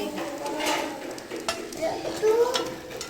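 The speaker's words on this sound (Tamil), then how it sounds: "பெரும்பொங்கலும் அரிசி போட்டு பொங்கிடுச்சு" Rice pongal cooking in a pot, with stirring scrapes, soft sizzling and bubbling, and light clinks of utensils against the pot, close and moderately loud in short irregular bursts.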